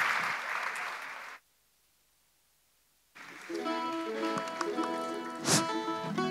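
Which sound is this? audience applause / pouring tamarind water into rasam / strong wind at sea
audience applause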